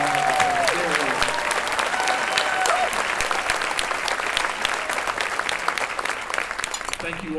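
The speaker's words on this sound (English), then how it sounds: "give these amazing superstars one more round of applause" A luncheon audience at a community award event gives sustained applause, dense and even for several seconds before gradually thinning, with a few voices audible over it early on.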